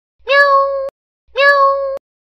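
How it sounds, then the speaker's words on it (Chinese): A cat meows twice, each call drawn-out and evenly pitched, loud and close with a short silence between the two. "这个时阵，边仔的猫仔雄雄喵"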